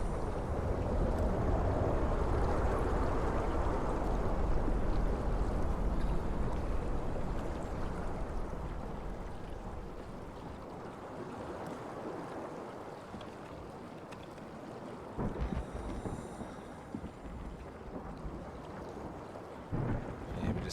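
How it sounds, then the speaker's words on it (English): Deep roaring underwater current storm in the game Soma, a heavy rumbling wash that swells loudly and then eases, with scattered muffled thuds and clanks later on. "Okay, there's some of those underwater storms they warned us about."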